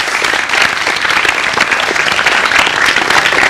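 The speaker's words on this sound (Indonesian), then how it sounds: "Terima kasih bagi aplaus sekalian untuk Anda semua." Dense, steady audience applause from a seated crowd at an Indonesian stage show, loud and continuous for the whole stretch with no voices over it.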